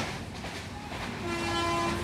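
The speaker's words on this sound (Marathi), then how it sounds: "जस्ट येईल आता मांडवी एक्सप्रेस आपली ट्रेन." The Mandovi Express rolls into a railway platform with a loud rumbling roar, and a long sustained horn note starts partway through. A murmur of a waiting crowd sits underneath.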